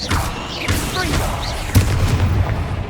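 A Confringo fire spell blast in the game Hogwarts Legacy, a loud booming impact followed by crackling flame, with a character's voice calling out near the start.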